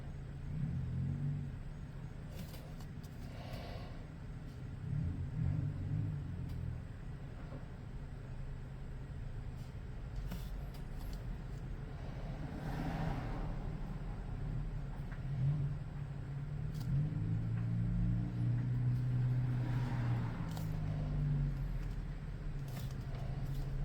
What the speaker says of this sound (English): Neighbors zooming off to their destiny.